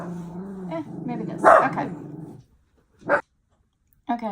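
Dogs bark and whimper in short bursts around speech, a couple of brief yips standing alone after the talking stops, fairly close by.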